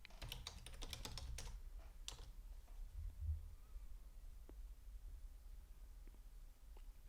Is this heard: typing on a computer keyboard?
yes